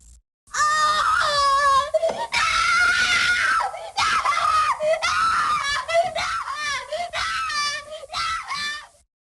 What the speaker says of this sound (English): Suddenly he grew angry. He yelled and screamed.